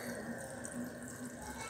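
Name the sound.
water running from a tap while washing fidget mochi toys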